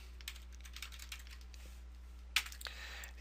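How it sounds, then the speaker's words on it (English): Someone types on a computer keyboard in a quiet room, with a scatter of soft clicks and one sharper keystroke near the end. "I'm going to go ahead and type page"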